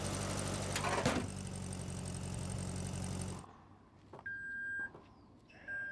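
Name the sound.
Ora Ballet Cat tailgate beeping when closed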